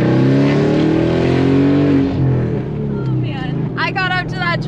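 A Ford Mustang GT with the Performance Pack accelerates hard on the road, its loud, close V8 roaring up in pitch before easing off, and someone talks excitedly over the tail end.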